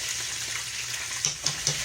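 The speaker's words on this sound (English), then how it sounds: "When you're deep fat frying, you don't have to flip much" Steady crackling sizzle of hot oil deep frying battered portobello mushrooms, with a few soft knocks or clinks near the end.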